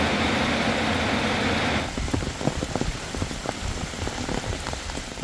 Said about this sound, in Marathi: मम्मी चल लवकर पाऊस यायला मोठा.